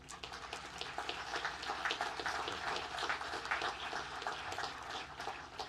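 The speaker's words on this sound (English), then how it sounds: "I think they deserve another round of applause." Audience at a Gold Star Families memorial monument dedication in Huntington, West Virginia applauding outdoors, a faint, steady patter of many hands clapping at a distance for several seconds.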